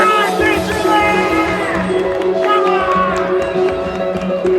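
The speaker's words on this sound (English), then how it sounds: "Smooth got the crowd rallying behind him with that one." A dense crowd at an independent wrestling show roars and shouts continuously, with excited whoops and rhythmic chanting rising and falling, loud and close throughout.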